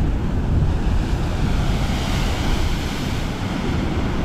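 Powerful waves surge and break against rocks on a rough Big Island coastline, a loud continuous roar with heavy wind buffeting the microphone and no talk.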